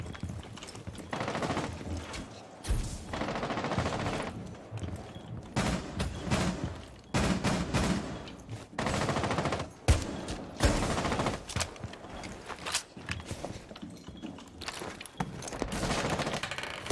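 Gunfire in Rainbow Six Siege comes in repeated bursts of rapid shots separated by short lulls, some close and sharp, others more muffled, continuing for the whole stretch.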